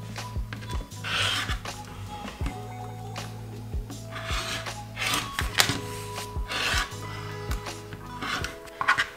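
Fabric quilt squares are trimmed with a rotary cutter along a 45-degree ruler, giving several short scraping cuts and rubbing strokes, close and fairly quiet, over a low steady hum.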